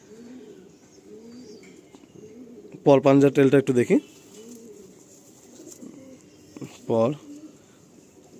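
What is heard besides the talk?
Madrasi pigeons cooing in a loft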